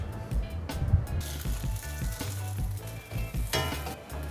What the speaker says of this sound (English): Then gently mix the noodles with eggs.